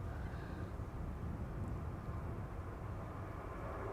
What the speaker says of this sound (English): It seems that the entire Delta fleet is taking off from our runway